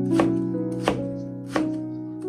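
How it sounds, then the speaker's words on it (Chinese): A knife chopping bitter melon into small cubes on a board, three firm, evenly spaced chops over a low steady hum, close and clear. "然後把苦瓜給它切成小方塊，把苦瓜給它切成末也可以"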